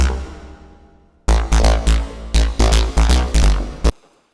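A gritty synthesized noise lead with LFO modulation plays a rhythmic run of short notes after a faint fading tail, its tone shifting and wavering as it moves.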